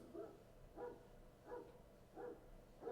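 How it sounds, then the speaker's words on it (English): Through an open window, a dog barks repeatedly in an even rhythm, about five muffled barks from some distance, faint and alone. "my window's open, so if you can hear a dog barking"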